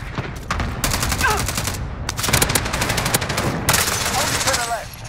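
Rapid automatic gunfire in an online shooter game, dense loud bursts of overlapping shots that come in waves and break off briefly, with players' voices talking underneath.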